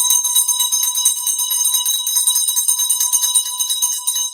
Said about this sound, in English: Why is she getting a bell?